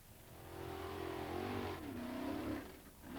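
A specially built off-road car rolls down a steep slope after a jump at a 1996 hill climbing event, its engine droning and rising distantly under crowd murmur.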